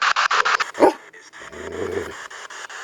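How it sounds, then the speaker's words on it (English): A dog in a cemetery at dusk gives a short, low growl, with panting and snuffling close by before and after it. "Who's he growling at?"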